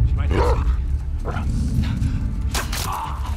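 Dog barks and yips sound in The Last of Us Part 2 as game action plays out, a few sharp outbursts mixed with low rumbling and voice-like sounds.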